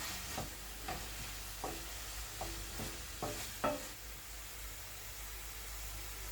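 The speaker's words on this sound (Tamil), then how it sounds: "ஃப்ரைக்கு குழம்பு பொடி மசாலா போட்டுக்கிறேன்" A spoon stirs a fry with kuzhambu masala powder in a pan, giving a handful of soft scrapes and taps over a faint, steady sizzle-like hiss, quiet and fairly distant.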